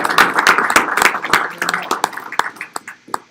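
A seminar audience gives a round of applause, a burst of close, distinct claps that is strongest at the start and thins to scattered individual claps over about three seconds.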